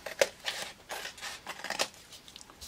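Scissors snip through a paper junk mail envelope, cutting along the flap edge and down the side to make a junk journal pocket, in several close, crisp cuts with brief pauses between them.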